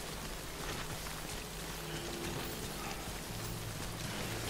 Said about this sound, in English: Raining so much.